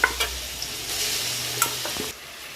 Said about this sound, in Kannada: ಹಾಕಿ ಸ್ವಲ್ಪ ಮಿಕ್ಸ್ ಮಾಡಿಕೊಳ್ಳಿ ಎಣ್ಣೆಯಲ್ಲಿ ಸ್ವಲ್ಪ ಫ್ರೈ ಆಗಬೇಕು ಹೀಗೆ